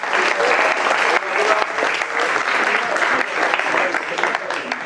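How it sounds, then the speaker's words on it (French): Dense, steady audience applause fills an eloquence contest final, a close crowd clapping loudly and continuously without pause. "Applaudissements, s'il vous plaît."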